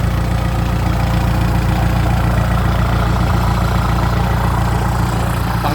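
Kubota M6240SUH tractor fitted with a modified 3-inch exhaust idling close and loud, a deep, even, throbbing rumble that holds steady throughout with no talk.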